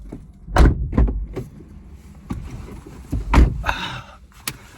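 A car door is handled with a series of close thumps and clunks, a couple of louder bangs among quieter rattles and a brief whirring scrape, with no talking.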